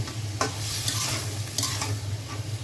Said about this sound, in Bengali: খুব ধোয়া উঠতেছে তো আমি চিংড়িগুলোর মধ্যে আবার ডাটাগুলো দিয়ে দিব